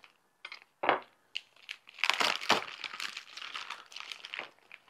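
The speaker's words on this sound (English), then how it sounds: "Let's get this Iberico Copa opened up" Packaging around an Iberico copa cured meat is opened, giving close, crinkly plastic rustling and tearing that starts with a few sharp crackles, then grows into steady crumpling.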